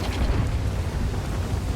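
An Object 279 early heavy tank fires its cannon on the Lost City map in World of Tanks, giving a loud, dense booming blast with rumbling that fills the short moment.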